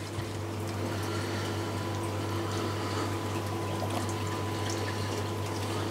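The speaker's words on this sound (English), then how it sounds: "that will fill the filter because it will be siphoning water from the tank" An aquarium filter refills as water siphons in from the tank, giving a steady, close wash of flowing water with a constant low hum throughout and no talking.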